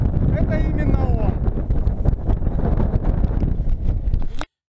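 Strong, steady wind buffets the microphone on a snowy mountain slope, a loud continuous roar with gusting rumble that cuts off abruptly near the end, with faint voices mixed in early.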